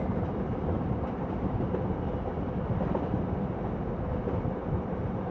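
Train noise from the visual novel Heart of the Woods: a dense, steady roar and rumble that holds at an even level throughout, like a carriage in motion, with no voices.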